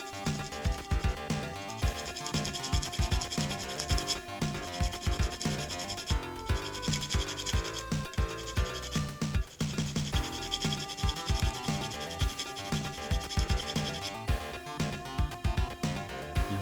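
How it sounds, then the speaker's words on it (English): Steady hand filing on the roof corners of a 1969 Dodge Charger 500 model car body, smoothing away mold imperfections; close, continuous rasping scrape strokes with a quick irregular rhythm, running alone without talk. "Here we are after about 10-15 minutes of filing that stuff down on all the corners on the roof."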